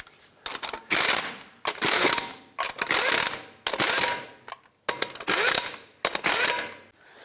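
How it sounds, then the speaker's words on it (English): Wrench ratcheting lug nuts onto a 2003-09 Toyota 4Runner wheel, six nuts, in repeated bursts of dense clicking roughly every second with short pauses between, close and loud with no talk. "then torque them to 83 foot-pounds"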